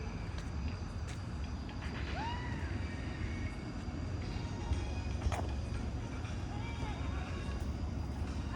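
An airplane flies overhead outdoors, heard as a steady low droning rumble that fills the background, with a few faint chirps over it.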